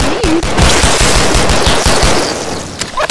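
A gun in the VR game Bonelab fires in a rapid, steady automatic stream of loud close shots, with the burst dying away near the end.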